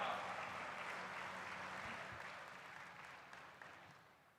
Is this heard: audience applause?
yes